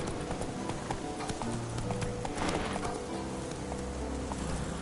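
Roach, a horse in The Witcher 3, gallops in a steady rhythmic clip-clop of hooves, moderately close, with faint ambient game sounds underneath.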